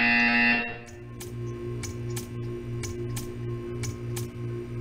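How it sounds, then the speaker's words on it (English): A buzzer sounds in the video game Portal 2: a loud tone cuts off, then a steady pulsing buzz repeats evenly about three times per second, with sharp ticking clicks over it. "You will hear a buzzer."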